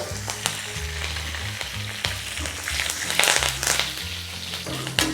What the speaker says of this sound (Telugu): ఇప్పుడు శనగపప్పు మినపప్పు మంచిగా వేగినాకే కరివేపాకు